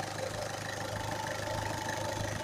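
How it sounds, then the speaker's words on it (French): A car engine with a suspected head gasket fault idles steadily after starting, a low, even rumble with a faint rhythmic pulse and no voices. "Voilà, j'ai démarré le moteur."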